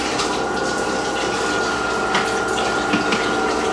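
A DeLonghi Magnifica coffee machine pumps water through its system during descaling, giving a loud, steady gushing flow with a constant pump drone throughout and no talking.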